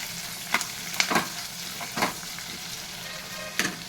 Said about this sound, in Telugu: పచ్చిమిర్చి వేగేటప్పుడు ఆనియన్, ఒక 2 పెద్ద సైజు ఆనియన్స్ అండి, మంచిగా వేగనివ్వాలి.